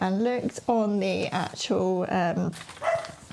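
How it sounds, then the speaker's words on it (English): A household dog barks and yips several times in quick bursts indoors, close by, mixed in with a person talking over it. "excuse the dog."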